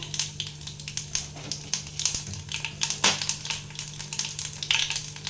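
Whole cinnamon, cloves, split cardamom and cumin seeds sizzle in hot oil for a chana masala, with sharp crackles and pops over a low steady hiss, and a few louder bursts near the middle.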